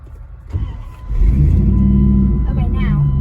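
A scrap hauler's engine is cranked and catches, a deep motor rumble swelling after a second and holding at a steady, loud idle, with voices in the background.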